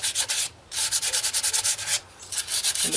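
Edges of a wooden clipboard sanded by hand: quick rhythmic back-and-forth rasping strokes, close and steady, paused twice briefly, with no speech.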